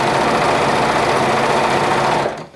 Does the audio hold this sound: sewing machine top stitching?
yes